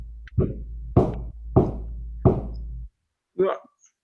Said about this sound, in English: We were sitting there eating when there was a knocking at the door.